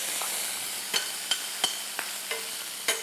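Mushrooms and guanciale fry in a pan with a soft, steady sizzle, broken by several sharp clicks of a spoon stirring against the pan.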